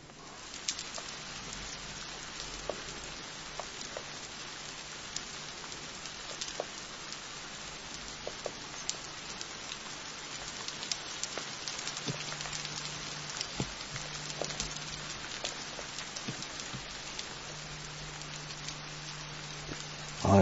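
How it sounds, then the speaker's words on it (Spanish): Heavy rain pours steadily at Machu Picchu in the early morning, a constant dense hiss of drops striking surfaces with scattered sharper patters and a low hum underneath, sustained for about twenty seconds without voices. "Ahora sí, la lluvia está fuerte, fuerte, fuerte."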